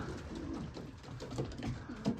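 Pigeons in a breeding loft coo softly while feeding on vegetables, several low throaty coos at a close, quiet level with no talking.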